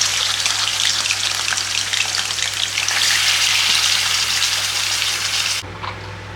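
Chicken sizzles loudly in hot oil in a pan, a dense, steady crackle that runs on without pause before dropping abruptly to a quieter sizzle near the end; no one speaks.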